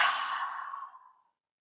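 A single soft, breathy exhale during yoga practice tapers away to silence over about a second, close and quiet.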